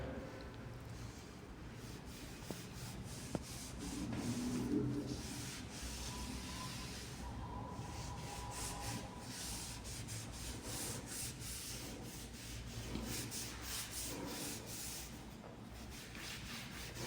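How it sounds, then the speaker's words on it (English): A cloth rubs and wipes across a metal test object being cleaned before weld inspection, a soft, quiet scrubbing that comes and goes in uneven strokes with no talking. "I'm taking empty cloth to clean the test object."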